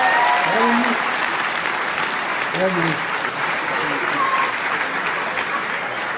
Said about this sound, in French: On peut applaudir Mimi, s'il vous plaît